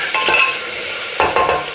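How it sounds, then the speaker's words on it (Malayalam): Masala for masala dosa and poori is sautéed and stirred in a pan. It gives a steady loud sizzle, with two pairs of scraping stir strokes cutting through the frying hiss. "ആ ഒരു പച്ച മണം മാറാനായിട്ട് ഒന്ന് മൂപ്പിക്കുക"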